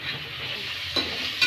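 Onions sautéing in a pan for tomato rice give a continuous close sizzle, broken by two short scrapes of a spatula stirring against the pan near the end.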